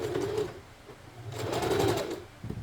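A sewing machine stitches elastic onto a lace bralette, a steady close mechanical whirring in two short runs separated by a brief pause.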